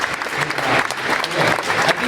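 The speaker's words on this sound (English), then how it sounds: "big round of applause for both of our candidates" Audience at a Minneapolis city council candidate forum claps steadily for the two candidates, a dense, sustained round of applause from a room of people.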